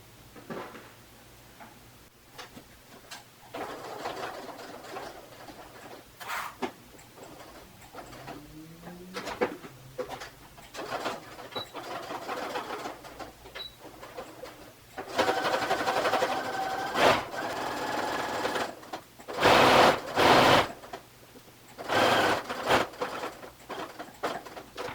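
A home sewing machine stitches the edges of a dress pocket in a steady mechanical patter, running in short and longer bursts with pauses for turning and backstitching, louder toward the end and with no voices.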